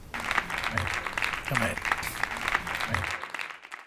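A church congregation claps together in praise, a dense continuous patter of hands with voices mixed in, fading away at the end.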